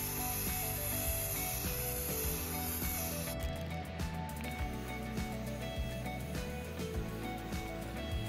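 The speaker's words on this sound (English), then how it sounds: "Right, so I'm just going to spray this." A spray can applies black underguard coating to the inside of a Jeep Cherokee XJ air filter housing, a steady continuous hiss at close range with a faint high whine at the start and no talk.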